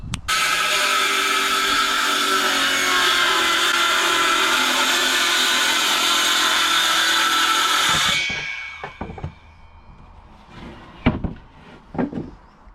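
Power tools at work on a Land Rover Discovery 4x4 being turned into a camper, a loud steady whine of cutting or drilling for about eight seconds, then stopping and leaving scattered knocks and clunks.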